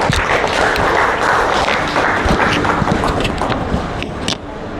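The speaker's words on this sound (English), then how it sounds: "I request you all to give her warm welcome with applause" Audience applause welcoming a speaker at a medical talk, a loud, steady, continuous wash of many hands clapping close by, with a few sharper claps standing out near the end.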